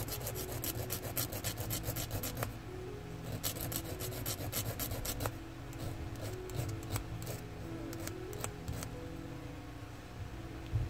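Rapid rasping strokes from filing or sanding a small handmade earring piece during costume-jewelry making, close and steady with brief pauses, and no talking.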